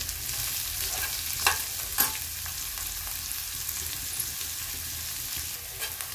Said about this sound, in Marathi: आता कांद्याला चांगलं परतून घेऊ, करपायचं नाही आपल्याला, कांदा नुसतं परतून घ्यायचंय कलर बदलेपर्यंत।